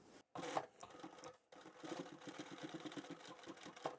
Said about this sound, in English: we'll sew across that line